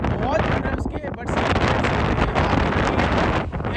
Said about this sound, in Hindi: मैं चिल्ला के बोल रहा हूँ क्योंकि यहाँ पे बहुत ज्यादा हवा चल रही है